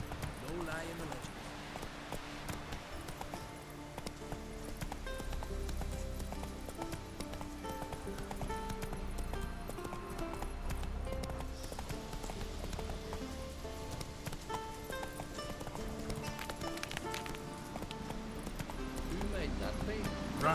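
Roach, the horse in The Witcher 3, gallops with rapid rhythmic hoofbeats that run steadily throughout, under game music and frequent talking.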